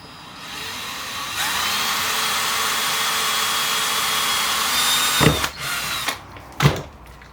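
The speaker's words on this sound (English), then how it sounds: "drilled a hole in the top of the bottle" A small drill bores a hole in the top of a plastic Evian bottle, a sustained whirring drone held for several seconds and close, then broken by a few short handling knocks and clicks.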